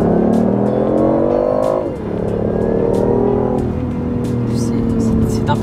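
A BMW i8 sports car drives and accelerates, its engine note climbing through the revs, dipping at a gear change and then rising again, loud and close inside the cabin while someone talks over it.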